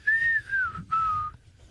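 A person whistles a short tune on a radio morning show, two clear sliding whistled phrases with a brief pause between them, close and alone.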